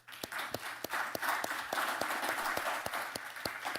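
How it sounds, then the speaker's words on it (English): Panelists at an international net zero energy forum receive applause: a soft, fairly distant wash of clapping with a few sharp, distinct claps standing out at irregular moments. "I want to just give the panelists a round of applause and thank you all"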